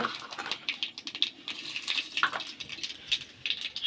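Nigella seeds dropped into hot oil for tempering while making pabda fish curry, a lively crackling sizzle of quick pops and fizzes up close, with no voices.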